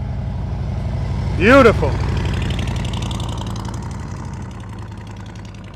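Motorcycle engine holding a steady, even throttle during slow-speed riding practice, a continuous mid-low drone running throughout, with a spoken remark over it near the start.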